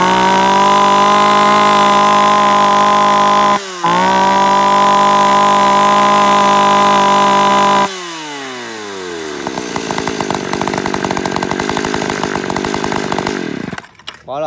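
An Echo 362 chainsaw runs loud and close at a high steady whine and dips for a moment. It revs on, then drops to a rough, rattling idle and cuts off near the end.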